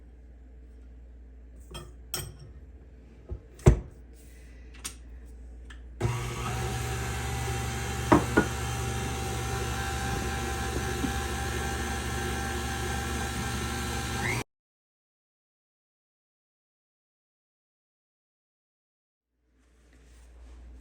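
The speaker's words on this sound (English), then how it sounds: "You're going to whisk those on high for 5 minutes or to light in color." An electric mixer whisks two eggs with sugar on high speed in a mixing bowl, a steady dense whirring that runs for several seconds after some clinks of utensils, then cuts off abruptly into silence.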